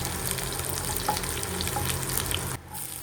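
Dried red chili pieces fry in hot oil with garlic and mustard seeds, giving a steady close crackling sizzle with faint stirring, then a sudden drop in level near the end.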